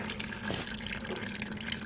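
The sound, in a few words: green antifreeze pouring out of an engine freeze plug hole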